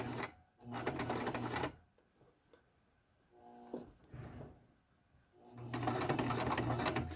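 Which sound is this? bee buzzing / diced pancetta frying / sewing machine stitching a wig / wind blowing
sewing machine stitching a wig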